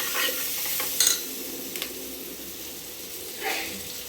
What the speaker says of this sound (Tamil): இப்போ கருவேப்பிலை, இஞ்சி பூண்டு பேஸ்ட் ஆட் பண்ணிக்கலாம்.